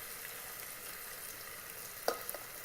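Chopped yellow onion sautéing in an Instant Pot gives a soft, steady sizzle throughout, with a few faint clicks of stirring near the end; no one talks.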